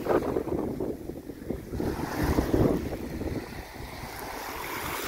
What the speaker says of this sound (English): Even though it's windy and stormy here, been raining all day, pretty much.